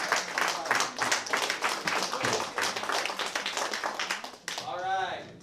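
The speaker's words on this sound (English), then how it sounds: "Clap it up." A crowd claps steadily in dense applause for several seconds, fading toward the end as a voice cuts in.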